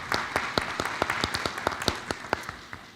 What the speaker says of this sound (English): let's give her a round of applause if you would